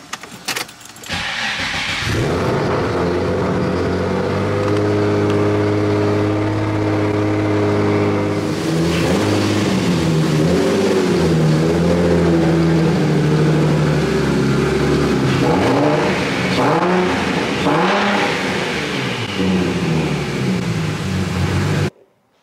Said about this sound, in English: First start up with the new intercooler.